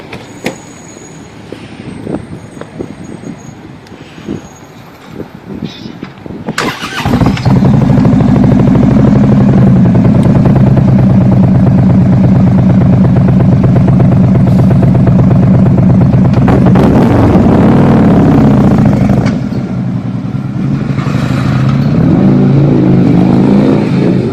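A vehicle fitted with CFR muffler exhaust pipes revs hard and loud, starting with rough idle pops and burbles before a sudden surge into a sustained roaring drone, then a further high rev and an easing back.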